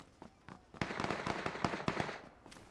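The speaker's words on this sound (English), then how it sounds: "They're shooting off to the left." Gunfire in the PUBG video game: a burst of sharp crackling shots at moderate distance, several rapid pops clustered over a couple of seconds with no talk.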